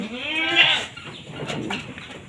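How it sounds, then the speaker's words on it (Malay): A single loud, close goat bleat with a trembling tone, followed by quieter rustling and ambient farm noise. "Inilah kambing-kambing ni ya"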